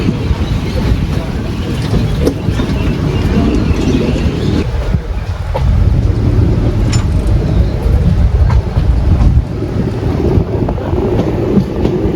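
Tiruchendur Express pulling out of Palakkad station: a steady, loud rail rumble with wind buffeting runs through the whole stretch, swelling slightly midway.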